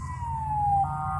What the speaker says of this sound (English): I hear sirens going on.